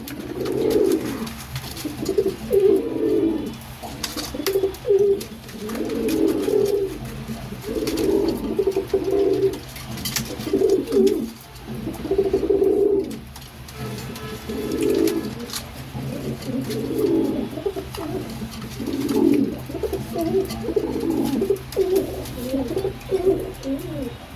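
A pigeon coos in a steady repeating series of low, soft, rolling calls, close and clear, each phrase lasting about a second with short pauses between, over faint background hiss.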